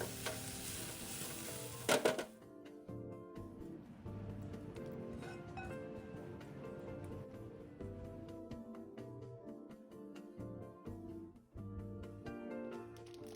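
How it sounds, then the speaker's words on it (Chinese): Stir-frying shrimp roll filling in a wok with celery stems being mixed in: a steady sizzle under repeated scrapes and clinks from the spatula, close by, with a brief louder clatter near the start. "最后再加入预先备好的芹菜茎，拌一拌后即可离火"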